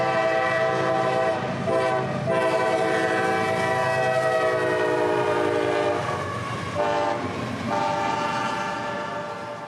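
Freight train I-030 approaches at Folkston, its horn sounding long, loud sustained chords in several blasts over a steady rumble of the locomotive and cars, with no talk.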